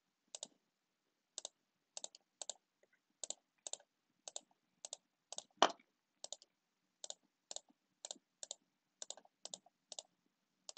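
Crisp computer mouse clicks while coloring a drawing in Illustrator, coming in quick pairs at a steady pace for about ten seconds, close and quiet in an otherwise silent room, with one slightly louder click near the middle.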